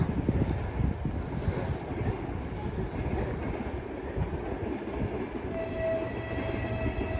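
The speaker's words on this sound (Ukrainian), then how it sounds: "Ой, потяг одразу." A train rumbles past in the Carpathian village of Verkhovyna, a steady rolling roar with wind buffeting the microphone and a faint high whine near the end.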